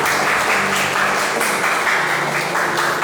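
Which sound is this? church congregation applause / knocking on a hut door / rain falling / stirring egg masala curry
church congregation applause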